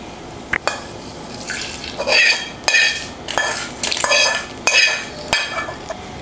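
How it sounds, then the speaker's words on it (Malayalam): A curry leaf tempering goes into a Kerala-style eggplant curry and gets stirred: loud, close bursts of sizzling and spatula scraping against the pan come in irregular waves, with sharp metallic clinks between them. "ഇനി ഇത് നമുക്ക് കറിയിലേക്ക് ചേർത്ത് കൊടുക്കാം."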